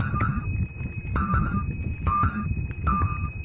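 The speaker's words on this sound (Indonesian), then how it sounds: "yang istimewa dari sepeda ini yaitu adalah belnya" The classic-style bell on a Polygon Premier 3.0 bicycle rings four times at roughly even intervals, each a bright metallic ding, over a low rumbling background.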